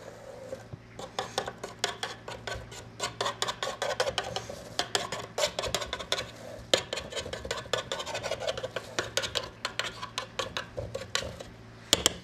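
Continuous clinking and scraping of the back of a metal spoon against a dish, smoothing and pressing biscuit crumbs for a cheesecake base, dense and rhythmic, close up with no voices.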